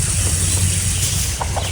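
A chicken clucks in short, loud bursts close by over a dense, noisy outdoor background, with no talking.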